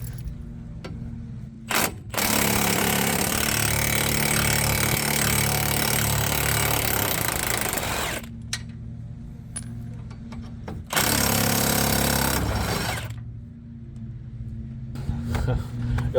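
Milwaukee power tool spinning off 15 mm bolts on a Ford F550 6.7 Powerstroke truck, two long loud whirring bursts with brief ratcheting clicks and a pause between them.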